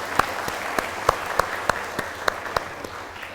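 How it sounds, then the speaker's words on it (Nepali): A studio audience on a Nepali quiz show claps in a steady rhythmic beat, about ten sharp, evenly spaced claps over a faint room hum. "ल अडियन्स आफ्नो लागि आफै ताली बजाइदिनुहोस् न कृपया।"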